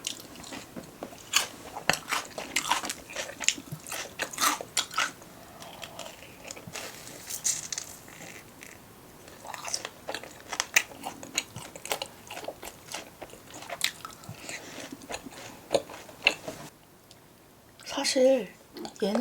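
Loud, close crunching bites and chewing of crispy Kwasak King fried chicken, in a rapid irregular stream of crackles with short pauses and a brief soft voice near the end.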